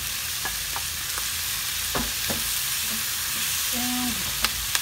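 Chicken pieces frying in a pan with eggplant for a tomato-sauce dish, crackling in a steady sizzle with scattered pops and spoon scrapes, close up and moderately loud, no voices.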